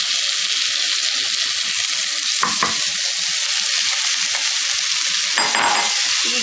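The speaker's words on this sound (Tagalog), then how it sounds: "Igigisa kasi natin yan." Snake gourd sautéing in a pan for a prawn curry, giving a steady close sizzle and crackle throughout with a few brief stirring scrapes, no one talking.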